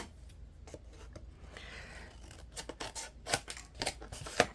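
Scissors trimming paper for an Echo Park Christmas Joy scrapbook album: a run of soft, close snips and paper rustle that grows into several crisper, louder cuts near the end, with no one talking.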